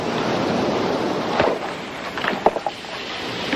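Ocean waves break on a shore in a continuous loud, roaring wash of surf, with a few soft thuds and swells rising near the end and no voices.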